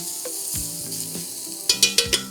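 Wine hits a hot pan to deglaze browned bits for osso buco, a steady close sizzle and hiss with a few sharp metallic taps of a utensil near the end.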